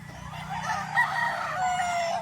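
Old gamecock roosters, two to three years old, tied up together on a farm, crowing in an overlapping chorus with clucks beneath, steady and moderately near, no talk.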